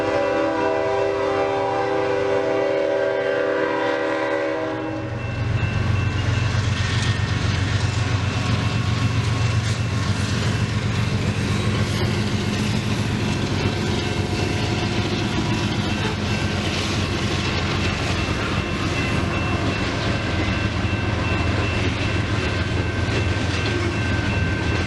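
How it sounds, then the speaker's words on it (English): A horn sounds in long held tones, then a mile-long freight train thunders past close by, a loud continuous rumble and clatter of wheels rolling on and on. "The train will go by while you're here."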